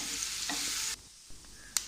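Ripe nendran plantain sautéing in a pan, a continuous frying sizzle that cuts out abruptly partway through, then soft stirring scrapes and a sharp clink near the end, with no voices.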